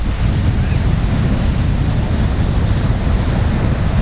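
Waves breaking against coastal rocks, a steady loud roar of surf with wind buffeting the microphone throughout, no pauses.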